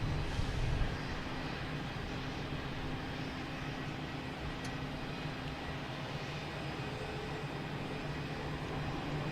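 An airliner going around at Boston Logan Airport produces a faint, distant, steady jet roar that holds level throughout, with no voices present.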